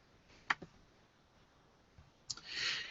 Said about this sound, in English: I'm going to go ahead and click on Submit